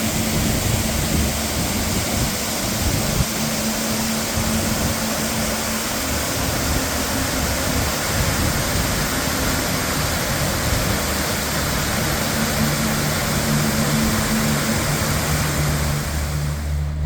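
Tyndall Creek rushes steadily at its confluence with the Kern River in the Sierra backcountry, a loud, continuous broadband roar of flowing water close by, unbroken for the whole stretch.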